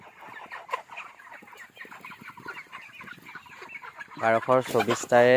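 A flock of broiler chickens in a farm shed clucks and peeps in a busy, continuous chorus, with someone speaking loudly over it toward the end.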